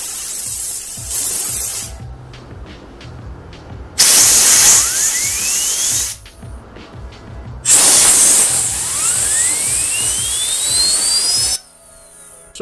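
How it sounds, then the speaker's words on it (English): Compressed air blasts grease out of fidget spinner bearings in two long, loud hissing bursts. A rising whine comes from the spinning bearing as the air drives it, and short quieter gaps fall between the blasts. "we're going to go over and get the air compressor to spray out what grease is remaining in there"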